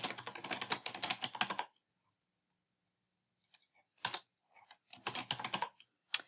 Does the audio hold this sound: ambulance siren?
no